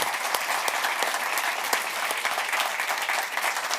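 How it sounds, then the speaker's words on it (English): A panel event audience claps steadily, a dense, continuous patter of many hands with no voices standing out. "I would like to end with a round of applause"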